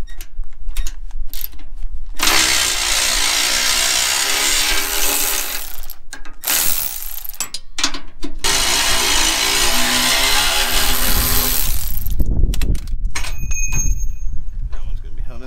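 Socket ratchet clicking steadily as it breaks loose bolts on a downpipe of a 3.5L EcoBoost F-150, loud and close, with short pauses between bursts and a voice at times.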